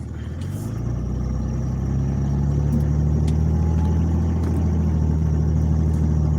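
A Dodge Ram 3500 diesel truck drives along with a steady, low engine drone and road rumble that swells slightly at the start, then holds even and continuous from inside the cab, with no talking.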